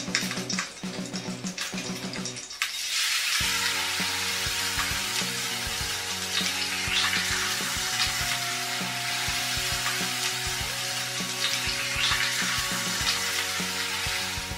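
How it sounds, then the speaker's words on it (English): A salmon fillet searing in a hot pan gives a steady bright sizzle and crackle that starts after a brief clatter and keeps going without a break, fairly close and with no talking. "We're going to cook the salmon. You can cook it to however you like it done, but about 3 or 4 minutes on each side should be fine."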